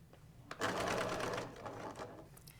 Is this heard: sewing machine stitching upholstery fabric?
yes